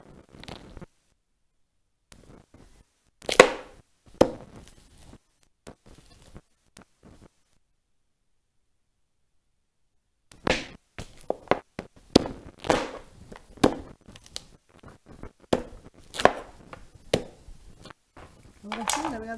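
A kitchen knife chops vegetables for a Mexican broth of squash shoots with grilled tasajo, sharp knocks coming in sparse groups early on, then a dense, quicker run of close, loud cuts against the board.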